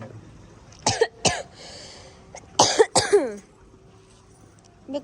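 Several sharp coughs from a person with a persistent cough and sore throat come in two bursts, a pair early and another pair a moment later, close and fairly loud, with a quiet pause between.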